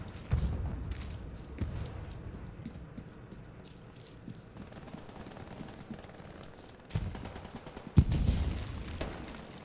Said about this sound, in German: Was für eine komische Explosion